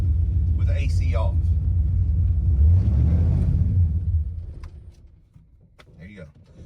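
A car engine fitted with Holley EFI idles in gear with the AC off, a low uneven rumble that sags near stalling, then dips quieter with a couple of brief clicks near the end.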